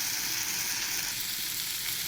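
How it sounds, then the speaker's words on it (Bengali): Snake gourd with grated coconut and potato fries in a pan with a steady, dense close sizzle throughout, no voices. "চিচিঙ্গা নারকেল দিয়ে আলু দিয়ে ভাজা"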